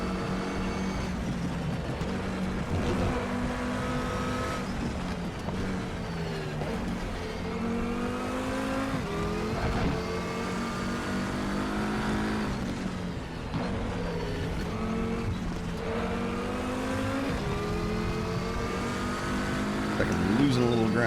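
An Audi TT RS race car in the RaceRoom video game at the Nordschleife, its engine revving and shifting through gears, rising and falling in steady surges under a driver talking throughout.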